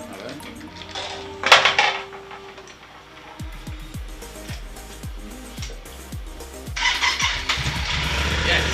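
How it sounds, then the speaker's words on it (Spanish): A Yamaha Super Tenere motorcycle engine cranks with a rapid series of starter pulses, then catches and idles, with brief clattering and background noise around it. "Encienda la moto."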